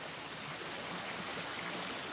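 A river flows with a steady, broad rushing wash of water, even and continuous with no voices.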